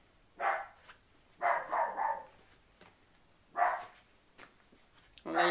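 A dog barks in several short bursts, fairly close and moderately loud, with quiet pauses between the barks.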